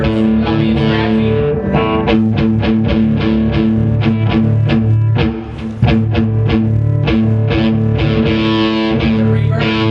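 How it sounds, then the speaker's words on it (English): Electric guitar played through the lead channel of a Marshall JCM 900 4100 amp, with distorted gain, loud, close chords and picked notes with sustained overtones and rhythmic strums, a brief dip midway. "This is the lead gain."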